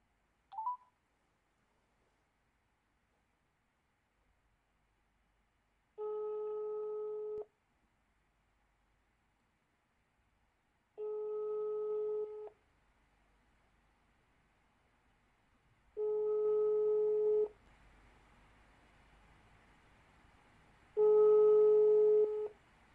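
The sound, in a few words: telephone dialing tones then busy signal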